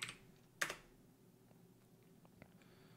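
Keys tapped on a computer keyboard while entering and confirming a root password during Ubuntu LAMP stack setup: two quick clusters of clicks near the start, then sparse faint ticks in a quiet room.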